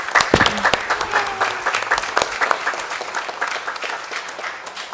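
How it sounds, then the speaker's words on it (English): Audience applause at a college board of trustees meeting honoring a graduating transfer student, steady dense clapping from a seated crowd that holds through the whole span and eases slightly toward the end. "So if we could give a round of applause to our student, Nikki Leon."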